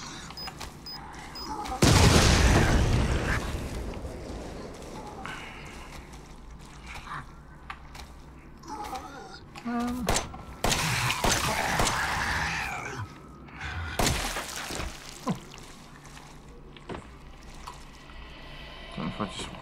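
Bombs detonate one after another in Resident Evil 7, deep in a mine: a heavy blast bursts out early, then further booms and rumbling impacts follow at intervals, loud and close, with background game sounds between.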